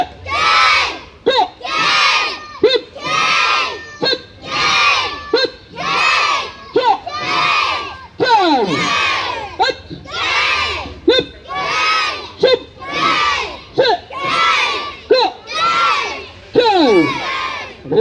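A group shouts battle cries at a self-defence training camp in Bhola Nath Nagar, Shahdara, Delhi, with loud, rhythmic, repeated bursts of many voices in close succession throughout.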